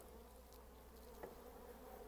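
Crossbred honeybees from a recovered swarm hum steadily at a hive during a transfer from a Dadant hive to a Kenyan top-bar hive. A dense, continuous drone, faint and even throughout, with no speech.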